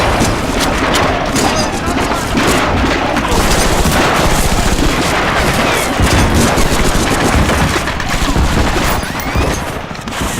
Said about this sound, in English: Watch for fire from those bunkers!